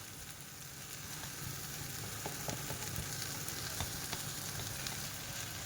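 Spice paste and half a teaspoon of garam masala sizzle over a low flame in a pan of ivy gourd (tindora) curry, a steady, close frying hiss with scattered small crackles and no talking.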